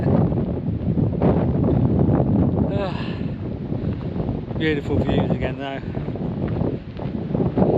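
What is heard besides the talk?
wind on a coastal trail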